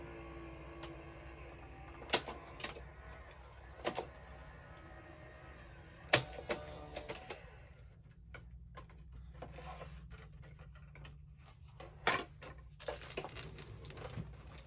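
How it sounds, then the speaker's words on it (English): A Big Shot Express electric die cutter running steadily with a continuous motor hum, punctuated by sharp clicks and ticks at irregular intervals, close and moderately loud. "I have a Big Shot Express, which I love. It's an electric die cutter."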